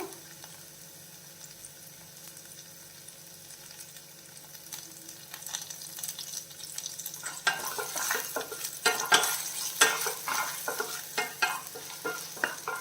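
Cashews and curry leaves frying with ginger and garlic in a curry for ladies finger, starting as a soft low sizzle and turning into loud crackling and popping partway through, with stirring.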